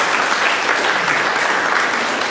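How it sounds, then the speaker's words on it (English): Steady applause from an audience, a dense wash of clapping that holds at an even level throughout without pause. "Round of applause, please, for Anna and our guests."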